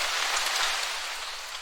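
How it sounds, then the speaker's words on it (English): Rain sound effect with a low-cut filter applied in Ableton for a future pop intro: a steady, dense hiss of rainfall with the low end thinned out, even and continuous throughout. "and then the rain, I'm just going to put a low cut on it like this"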